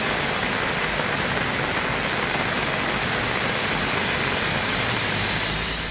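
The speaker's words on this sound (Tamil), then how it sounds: "அரியலூர் மாவட்டம் செந்துறை உள்ளிட்ட பகுதிகளில் மாலை நேரத்தில் கனமழை பெய்தது." Heavy evening rainfall in the Ariyalur district of Tamil Nadu, a dense, steady hiss of downpour drumming continuously at close range with no pauses, and no voices heard over it.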